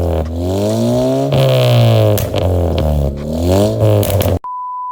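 A motorcycle fitted with an NDK Pro Street full-system exhaust revs up and down several times, a loud, close rising-and-falling engine drone that cuts off abruptly into a faint steady tone.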